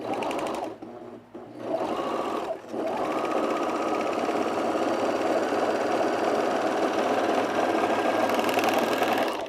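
A sewing machine runs top stitching on a sunblock top, starting with a couple of short bursts separated by pauses, then settling into a long, steady mechanical whir close by.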